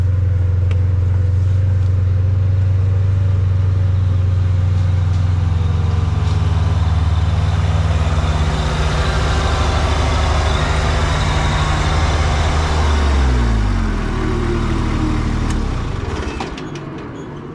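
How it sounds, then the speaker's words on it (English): A big tractor engine runs loud and steady while clearing saplings on private property, its heavy low drone holding for most of the stretch before shifting in pitch and easing off near the end. "Probably gonna have to hit that with my big tractor."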